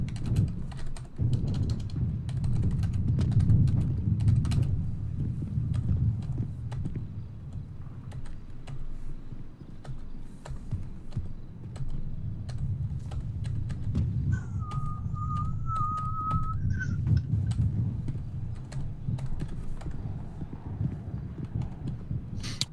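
Rapid, steady keystrokes on a computer keyboard run throughout during a police patrol roleplay video game, with a low background hum and a brief whistle-like tone midway.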